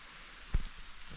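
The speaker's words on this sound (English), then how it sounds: "it's already started raining" Rain falling beside a forest roadside: a steady, soft hiss of drops over a brief stretch, with one dull low thump partway through and no talking.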